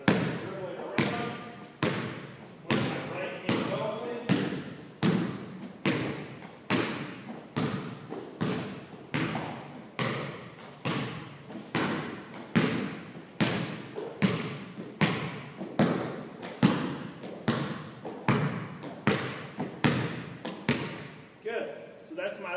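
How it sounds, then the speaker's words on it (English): A basketball dribbled with the right hand in a zig-zag around cones, bouncing in a steady run of about two dozen loud, close thumps at a fairly even rhythm, with no talking. "I'm going to start dribbling around."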